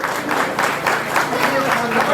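Audience applause for a singer at an outdoor National Paddy Day and rice-planting festival, a steady dense burst of crowd clapping lasting throughout, loud and close.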